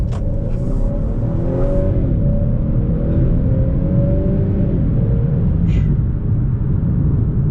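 A 2022 Honda Accord Sport with a 2.0T engine and 10-speed automatic pulling through a sharp turn, giving a steady loud engine drone and road rumble from inside the cabin, with pitch shifting slightly as the revs change.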